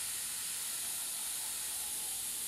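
An airbrush lightly mists emerald green paint onto a painted hummingbird's body, giving a soft, continuous airy hiss held close and steady throughout.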